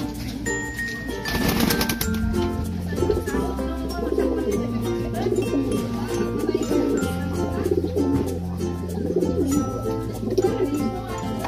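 Pigeons coo steadily in low, repeated rumbling calls, with several birds overlapping nearby and faint jingling in the background.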